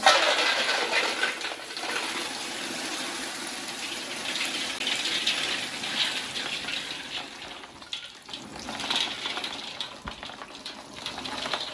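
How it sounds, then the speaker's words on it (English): Boiled groundnuts poured through a sieve so the water drains away, producing a continuous gushing, splashing stream that runs for several seconds, close and fairly loud with no voices. "So I just poured it into the sieve now to drain out the water."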